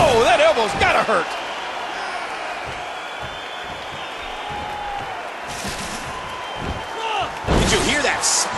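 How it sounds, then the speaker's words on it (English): A wrestler's body smacks onto a ladder during a TLC match, giving a couple of sharp, heavy slams over a steady crowd murmur, with a commentator's voice briefly at the start. "Did you hear that smack? That's human flesh on that ladder."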